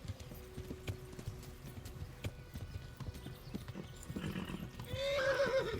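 A horse galloping in Kingdom Come: Deliverance, quick irregular hoofbeats under a faint wash of background noise, then a loud neigh near the end.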